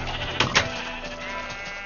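Two short sheep bleats from Minecraft, close and clear, the second louder, over a steady low game background hum.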